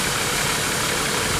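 A Nissan Patrol Y61 with a TD42 diesel engine idles steadily with a loud, slightly rough mechanical clatter and continuous low rumble, running on engine flush and heard close up with no talking.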